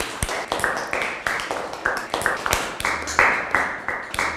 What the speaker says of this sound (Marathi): अरे टाळ्या तर वाजवा की